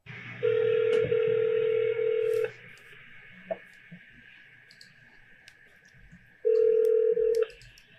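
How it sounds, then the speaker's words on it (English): Telephone call audio with steady dial or ring tones, one long tone burst at the start and another near the end, a faint line hiss and scattered clicks between them. "here is the audio from that phone call"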